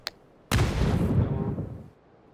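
A loud, close explosion barrage from a bombing zone in PUBG bursts after a tiny pop and rumbles heavily for about a second and a half before fading into quiet.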